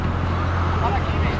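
A Subaru pulling out of a car event, its engine noise blending into a steady, loud rumble of road traffic for a moment, with no clear voices on top.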